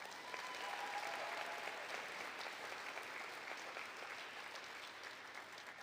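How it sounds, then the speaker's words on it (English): Audience applause fills a university 4-H closing assembly hall, a steady wash of many hands clapping, fairly distant and soft, sustained for several seconds without talk. "Please give the executive council members another round of applause."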